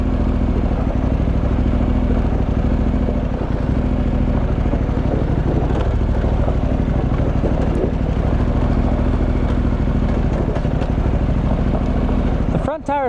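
Dual sport motorcycle on Avon TrekRider 50/50 tires riding off-road, a steady loud engine drone with gravelly clatter and wind rumble throughout and a sharp knock near the end.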